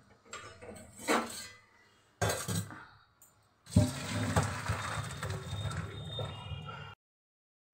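Steamed cauliflower tips from a pot into a colander bowl in several short bursts of clattering metal and wet splashing. Quiet gaps separate each pour.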